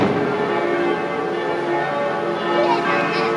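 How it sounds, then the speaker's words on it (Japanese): Church bells ringing at night in Zermatt, at the foot of the Matterhorn, on a national holiday evening, a steady sustained ringing with overlapping tones filling the whole stretch amid outdoor ambience. "普通ね、夜こんなに鐘鳴ることもないですしね"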